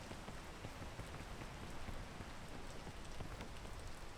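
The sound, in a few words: rain falling in a video game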